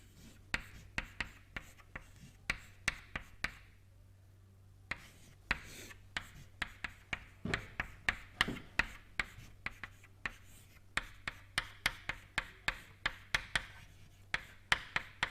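Chalk or pen tapping and scratching on a board as an equation is written during a university lecture on turbulence, a steady series of sharp close clicks and strokes with a short pause early on, no talk.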